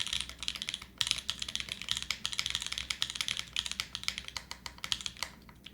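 Steady, fast typing on an Alice-layout mechanical keyboard, with crisp, poppy keystrokes clacking in a continuous rhythm and brief pauses, close up, with no voices.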